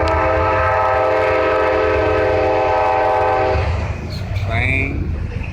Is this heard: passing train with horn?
yes